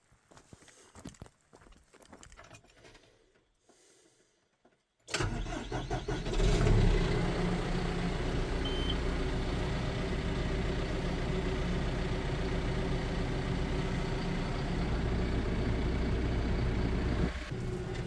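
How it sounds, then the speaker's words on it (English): A farm tractor on a wet Alaska farm cranks over and catches after about five seconds of quiet, then settles into a steady, close engine rumble that runs continuously with little variation. "So I'm going to fire the tractor up"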